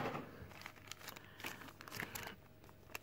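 A Yu-Gi-Oh booster pack wrapper is crinkled and torn open up close, with quick bursts of plastic rustling and crumpling over a few seconds.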